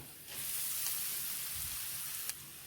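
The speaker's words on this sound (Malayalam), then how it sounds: "ഇതിലേക്ക് നമുക്ക് അരച്ച് വെച്ചിരുന്ന അരപ്പിട്ട് കൊടുക്കാം" Ground paste is tipped into onions and curry leaves sautéing in a pan for a tender-jackfruit thoran, giving a quiet, steady sizzle that hisses on evenly for a couple of seconds, with one brief sharper crackle near the end.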